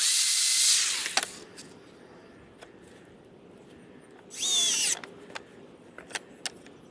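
Close, loud bursts from a power drill driving screws into wooden slats of a small pet Adirondack chair, one run at the start and another midway, with light taps and clicks between them.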